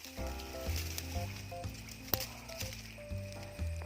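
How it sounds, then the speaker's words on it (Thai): An oily yang na tree (Dipterocarpus) still burning, its resin crackling and sizzling in scattered sharp pops over a soft, continuous hiss, fairly quiet and close. "มันก็เลยติดไม่เลิกเลยเพราะว่ามันมีน้ำมันอยู่ ต้องไปเอาน้ำมาดับ"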